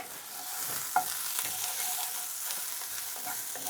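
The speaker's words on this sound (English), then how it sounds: "you know you got it right when you hit the pan with your ingredients, it starts to sizzle" King prawns sizzle steadily in a hot pan for sweet chilli prawns, a loud continuous frying hiss with a brief sharp crackle near the start and no voices.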